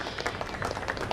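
An audience claps to welcome a singer at a community golden jubilee mass wedding celebration, a dense, steady patter of many hands sustained evenly through the moment at moderate loudness, with no voices standing out.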